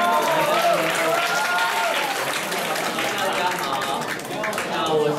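An audience at a university pop-music recording club gathering applauds to welcome a singer to the stage, a dense, continuous wash of clapping with a voice speaking over it.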